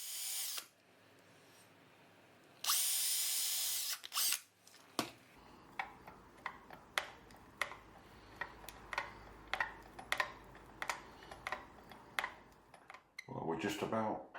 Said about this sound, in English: I just need to spot these with a drill so that I can